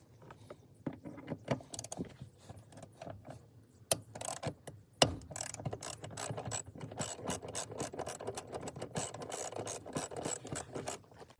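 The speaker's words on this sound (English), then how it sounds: "So you're going to need your 12mm socket and ratchet." A 12mm socket on a ratchet backs out bolts while fitting shifter base bushings, close-up rapid clicking bursts with scraping metal, sparse at first then dense and steady, no talking.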